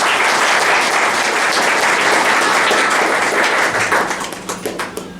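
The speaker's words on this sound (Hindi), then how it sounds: "तो माता जी की जोरदार तालियां।" Loud, dense applause from an audience at a team celebration in Amarkantak, honoring a mother, steady and sustained before thinning out over the last second.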